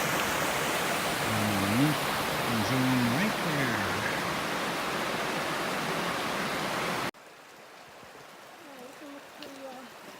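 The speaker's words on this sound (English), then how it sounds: "you got the flow from Garden Creek and Pipe Creek together" Garden Creek and Pipe Creek meet on the Bright Angel Trail in the Grand Canyon, their flowing water a loud, steady rush close by that cuts to a much quieter murmur partway through, while people talk.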